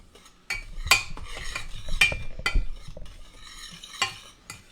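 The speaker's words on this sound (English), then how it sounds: "So I'm going to stir my sugar and flour all up." Sugar and flour stirred together in a metal pot for old-fashioned Southern banana pudding, a utensil scraping and clinking against the sides in uneven strokes, close and fairly loud, with no voices.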